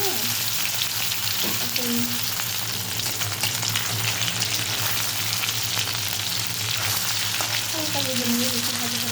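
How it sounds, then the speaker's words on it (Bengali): Dried chepa fish (shutki) mixed with turmeric fries in a pan with a steady, close sizzle throughout, with occasional stirring and a brief spoken word. "সেই তো চাপা শুটকিটাকে হালকা একটু হলুদ মিক্স করে নিলাম, ভেজে নেবো হালকা করে"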